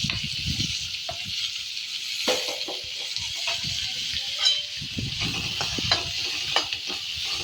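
Onion and chili fry in a pan for dal tadka, a steady close sizzle with stirring scrapes and clinks of a spoon against the pan throughout.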